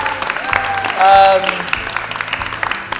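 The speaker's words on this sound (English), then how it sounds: "Let's applaud it." An audience at a live cooking show during a festival applauds in a brief burst of clapping, with talk and a held sung note over it.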